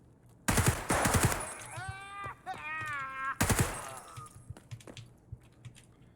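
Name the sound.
DT MDR .308 rifle gunfire in video game Escape from Tarkov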